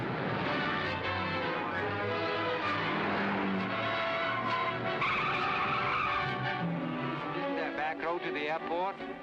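A car speeds along with its tires squealing and skidding in a 1948 mystery thriller chase, the engine and tire screech loud and continuous, and voices speak over the action.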